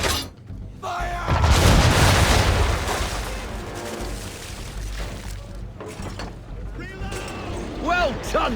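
A ship's cannons fire a broadside of round shot in Assassin's Creed III: a heavy, booming roar that swells early and rumbles on at length, followed by fainter crashes and splashes and brief voices near the end.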